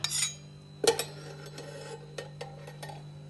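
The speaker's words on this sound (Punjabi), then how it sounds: "ਚਮਚਾ ਘਿਓ ਦਾ ਲੈ ਲਾਂਗੇ ਆਪਾਂ ਇੱਧਰ ਆਪਾਂ ਪਾ ਲਿਆ ਕੜਛੀ ਦੇ ਵਿੱਚ" A metal spoon scoops ghee and clinks against a ladle in a home kitchen, a few sharp taps and scrapes with a steady low hum beneath, no talking.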